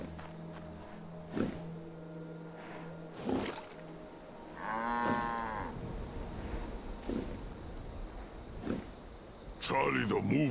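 A cow in the Fallout 76 video game lets out a long, loud moo in the middle, with thumps and other game sounds around it and talk over the top.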